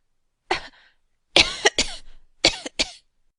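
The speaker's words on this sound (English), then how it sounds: "was affected with a cough in her throat" A short fit of coughing, five sharp, throaty bursts in two quick clusters, close and alone.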